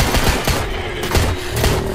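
Rapid bursts of gunfire from a gun in the Backrooms video game crack out in quick succession, loud and close, with no talking.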